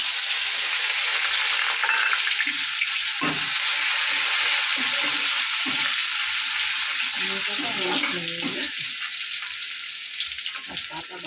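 Chopped onion hitting hot oil in a pan, a loud dense sizzle that holds steady and slowly eases off toward the end, with faint stirring and a quiet voice underneath.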